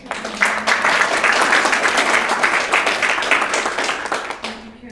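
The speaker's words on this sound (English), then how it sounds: "let's give another round of applause" Audience at a film screening and discussion at Town Hall Seattle giving a round of applause, steady close clapping that swells and holds for several seconds before tapering off.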